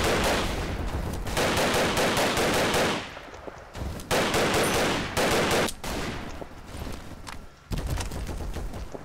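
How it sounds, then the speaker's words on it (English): Heavy video game gunfire with a shotgun present, long loud barrages of rapid shots broken by brief pauses, close and dominant throughout. "Oh god, he's got a shotgun."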